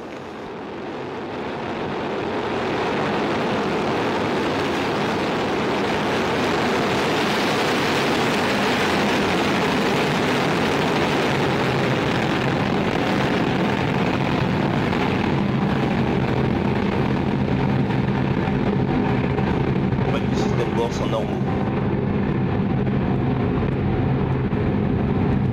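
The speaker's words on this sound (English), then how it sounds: "liftoff" A Soyuz ST-A rocket lifting off carrying the SES-15 communications satellite builds into a sustained, broad distant roar that swells within the first seconds and holds steady throughout, with no voices.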